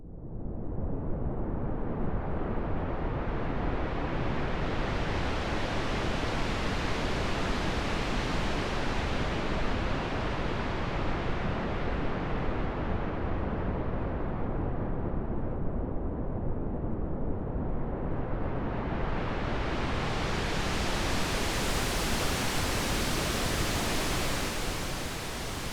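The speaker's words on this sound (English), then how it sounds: "As you can hear, this provides an approximation of the sound of surf." Filtered noise from a modular synthesizer approximating ocean surf, a continuous loud wash whose brightness slowly rises, falls and rises again as the filter cutoff is swept, with no voices.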